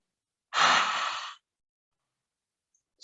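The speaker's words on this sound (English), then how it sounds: "And the tongue sticks out, and you take 5 forceful exhales." A single forceful yogic exhale with the tongue out, a loud breathy rush lasting under a second, followed by silence.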